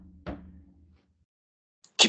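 Knocking on a front door heard from inside a house: a quiet thud, a pause, then another short burst of knocks.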